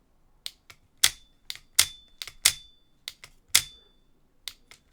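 Seasir ContraMax all-metal lure fishing reel giving sharp, dry clicks and cracks, a dozen or so irregular close snaps with quick decay over quiet background.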